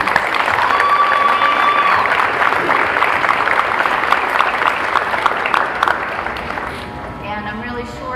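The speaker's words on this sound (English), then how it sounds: "I think she deserves a round of applause" An audience at a high school senior awards ceremony applauds a student, a broad, steady roll of clapping that holds for several seconds then fades, with a voice speaking faintly underneath near the end.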